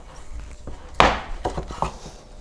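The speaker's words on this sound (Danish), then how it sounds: "Jeg skærer lige fra endestykkeren." Knife cutting through bacon on a board, working from the end piece: a sharp chop followed by a few lighter cuts, close and fairly quiet over faint room noise.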